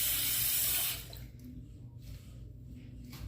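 A tap runs loudly into a sink for rinsing during a wet shave, then shuts off after about a second, leaving a quiet room with faint drips and small movements.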